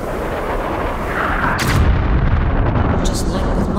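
Missiles exploding in the video game Metro: Last Light Redux, a loud rumbling blast with booming low end and crackling bursts, dense and continuous across the clip, with game sounds layered on top.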